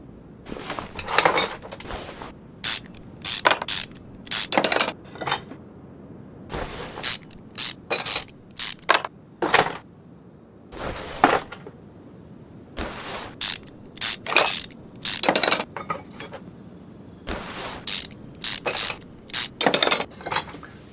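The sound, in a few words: removing rusty engine bolts in Car Mechanic Simulator 21 video game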